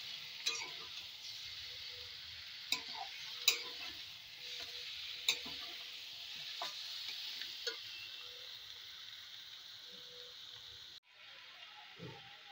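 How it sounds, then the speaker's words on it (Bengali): Chicken is stirred in a pan over a medium flame for a Chinese-style chicken dish, a faint steady sizzle broken by a few sharp metallic taps of the spatula, with no voices. "আমি ফ্লেমটাকে মিডিয়ামে দিয়ে চিকেনটাকে একটু নেড়ে ফেলে নেব।"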